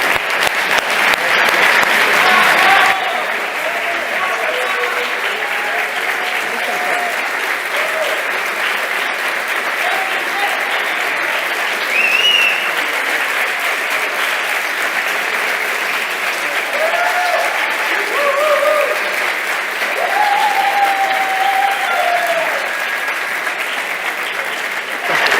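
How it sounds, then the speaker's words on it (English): Audience applause fills a hackathon closing ceremony with sustained, loud clapping from a large crowd, steady throughout and continuing without letup for the full length. "Give them a big round of applause."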